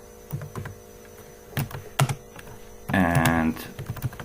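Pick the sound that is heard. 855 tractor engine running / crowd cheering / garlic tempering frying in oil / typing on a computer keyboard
typing on a computer keyboard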